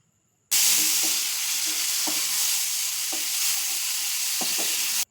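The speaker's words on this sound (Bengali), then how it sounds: "এরপর ম্যারিনেট করা মটন কড়াইতে দিয়ে ভালো করে কষিয়ে নিন।" Marinated mutton fries in a kadai with a loud, steady sizzle as it is stirred, with occasional clunks and scrapes from the spoon. No one speaks.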